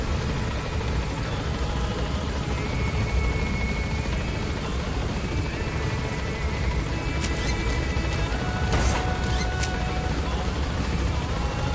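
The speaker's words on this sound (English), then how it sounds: "This chopper is taking forever to land." Helicopter landing in Metal Gear Solid V: The Phantom Pain, a steady loud rotor drone that persists throughout, with a few brief sharper game sounds near the end.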